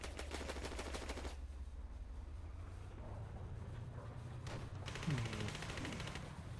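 Bursts of automatic gunfire in the WW2 Online combat game, a rapid rattling volley at the start, a quieter gap, then another fast burst of shots near the end over a low rumbling background.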